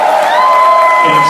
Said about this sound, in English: Make some noise for Polo, guys